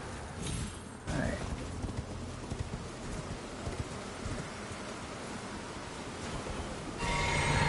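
Horse hooves galloping in Elden Ring, a steady rapid clip-clop of the mount running across open ground, fairly loud and continuous with a rushing, rain-like wash of ambient noise behind it.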